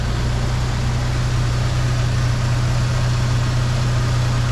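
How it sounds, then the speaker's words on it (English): A Jeep Wrangler engine idling smoothly and quietly in a garage after an oil leak fix, a low steady hum with no rattles or changes in pitch, continuous throughout. "the engine's running and it is very quiet"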